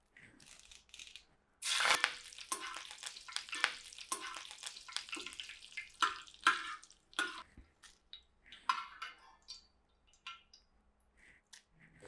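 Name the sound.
curry leaves frying in hot oil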